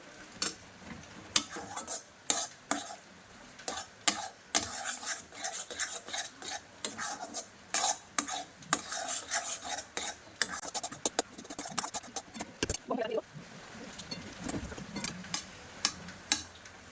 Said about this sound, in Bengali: ভালো করে ফুড কালারটা মিশিয়ে নেব